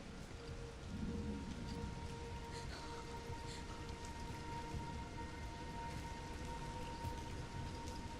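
Steady rain and a low rumble of thunder from a video game's ambient sound design, a continuous moderate hiss of falling rain with a brief deeper rumble early on.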